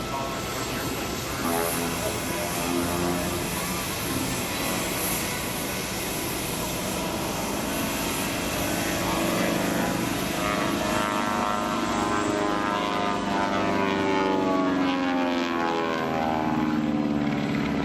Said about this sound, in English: that Twin Beech aircraft that Matt is flying